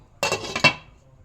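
A metal lid being lifted off a pan of tomato chutney: a short clatter of two or three close metallic clinks with a brief ringing decay, and no voices.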